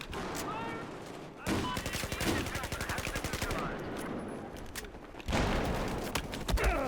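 Rapid bursts of automatic gunfire in a Battlefield 4 match, dense rattling volleys with overlapping shots throughout, loud and close, with a heavier burst near the end.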